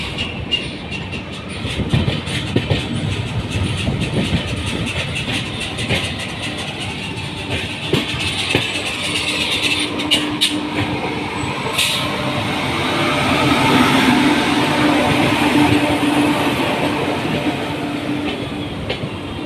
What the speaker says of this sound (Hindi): गाइस ये ट्रेन डेली रनिंग ट्रेन है, तो ये हर रोज़ रानी कमलापति से जबलपुर जाती है।